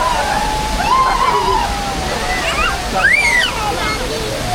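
Malshej waterfall roars in a steady, dense rush of falling water close by, with people talking over it throughout.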